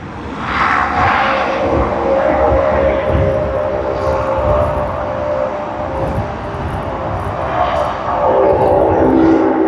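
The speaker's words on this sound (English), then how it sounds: "you have Qantas coming" A Qantas airliner's engines roar loud and continuous at Sydney Airport, a broad sustained rumble that holds steady throughout with no voices.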